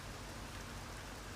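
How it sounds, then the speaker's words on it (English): Steady rain in the Initial D arcade racing game, stage 4: a dense, even downpour hiss filling the whole moment without a break, no voices. "This rain is some bullshit."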